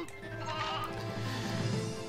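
Repeated sheep bleats from the Toy Story 2: Buzz Lightyear to the Rescue PS1 video game, moderately loud over a steady game music and ambience bed throughout the short stretch.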